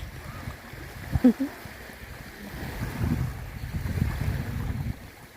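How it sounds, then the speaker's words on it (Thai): Rough sea waves wash against the coast in Finland while strong wind buffets the microphone, a steady low roar that swells louder in the second half. "ทะเลขึ้นแรงมาก"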